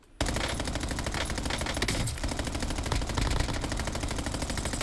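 Sustained automatic gunfire from an upgraded standard weapon in a video game, a dense rapid burst of shots running continuously and loudly with a brief dip partway through.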